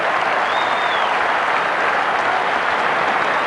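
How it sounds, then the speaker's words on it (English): A rugby crowd at a Bledisloe Cup test applauds a deft kick, a broad, steady swell of clapping and crowd noise heard from a distance, continuous and even throughout the short stretch. "the crowd applaud him for a very deft touch"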